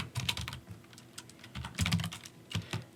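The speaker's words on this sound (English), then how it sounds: "Just type in the name of your license file." Typing on a computer keyboard, with quick, irregular clacking keystrokes close by and at a moderate level, heard alone without any talk.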